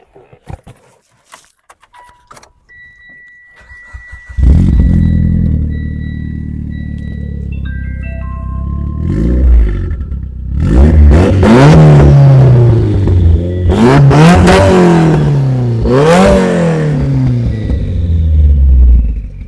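A 700HP Mitsubishi Lancer cranks after a few faint clicks and jingles, then catches into a loud rumbling idle before several sharp, rising revs blip up and fall back, close and powerful.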